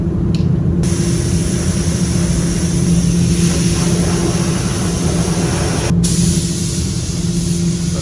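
A paint spray gun applying a Sikkens drop coat to a car, a loud steady hiss of atomising air over a constant low hum, broken by one brief pause near the end.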